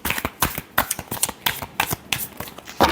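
Tarot cards being shuffled up close make a rapid series of crisp riffling flicks and slaps over about three seconds, with no voice.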